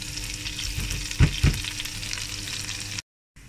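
Garlic and chili pepper fry in oil in a pan with a constant crackling sizzle, broken by two short clattering stirs, before the sound cuts out abruptly near the end.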